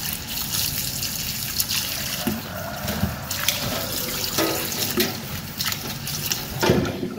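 Tap water running and splashing while crabs are rinsed in a sink before steaming with lemongrass, a steady close gush broken by clatters and handling knocks.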